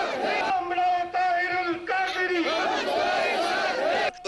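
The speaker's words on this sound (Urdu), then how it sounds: "احتجاج میں کارکنوں نے گو نواز گو کے نعرے لگائے۔" Political protest crowd in Bradford chanting 'Go Nawaz Go' in unison, loud repeated slogan bursts with brief gaps between them, voices shouting together close to the microphone.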